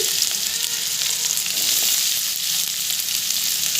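Onions sizzle and crackle steadily in hot oil, a dense, continuous frying hiss at close range with no voices.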